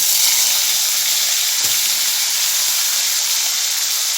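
Dried fish frying in oil left over from frying eggplant, a loud, continuous close hiss and sizzle with one faint tap partway through.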